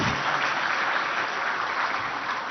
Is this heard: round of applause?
yes